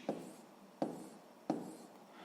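A pen taps and scratches out numbers by hand on paper, three short, distinct strokes at a steady pace, close and quiet.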